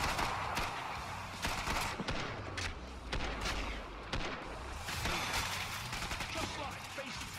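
Pistol shots from Killing Floor 2 ring out in quick, irregular bursts of sharp cracks over a dense, busy game background, with a voice talking over the action.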